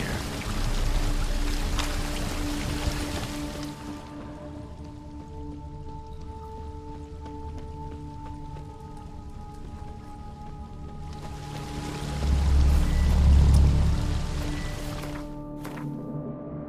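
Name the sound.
waterfall flowing upwards in the video game The Witcher 3: Blood and Wine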